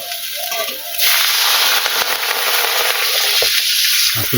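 Vegetables sautéing in a pan for a village-style curry, a loud steady sizzle and crackle that jumps up after a quieter first second, with faint stirring scrapes near the end.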